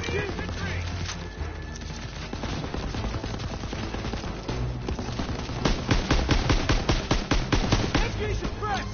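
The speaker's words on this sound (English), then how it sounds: "Keep pressure on that MG!" Sustained machine gun fire in the Call of Duty WWII campaign, dense rapid bursts of gunshots that grow louder and sharper toward the end, with shouted voices and battle noise mixed in.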